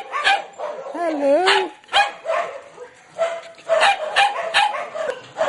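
Puppies barking and yipping in a kennel at a dog rescue centre in the Philippines, several close, repeated high barks and a whimper, with a person talking over them.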